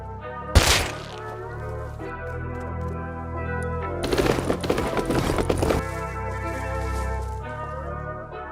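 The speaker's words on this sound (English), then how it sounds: "I swear that's a rocket launcher" Rocket launcher fire in the survival game Rust: a sharp booming launch, then a rumbling burst of blasts a few seconds later, set against a steady droning background hum.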